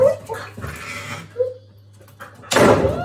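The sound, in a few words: dog shutting a door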